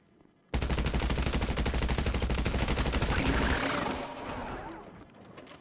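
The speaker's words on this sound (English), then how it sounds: "this gun sounds great" Rapid automatic gunfire from a weapon in GTA Online bursts in suddenly as a dense, sustained rattle of shots, then drops away into a fainter tail of distant shooting and commotion.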